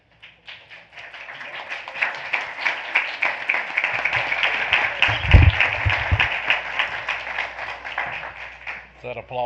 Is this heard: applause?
yes